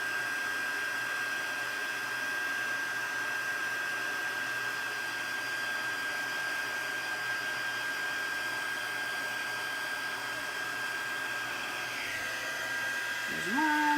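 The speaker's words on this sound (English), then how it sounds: "I always emboss from the back so that it doesn't blow my powder right off." A heat embossing tool blowing from the back of a card, a steady close whirring hum like a small hair dryer holding constant throughout, with a slight shift near the end.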